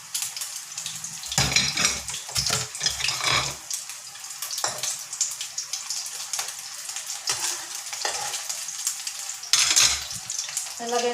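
A hotdog frying in a pan, sizzling steadily while a utensil scrapes and clinks against the pan in irregular bursts, close and fairly loud, with no voices.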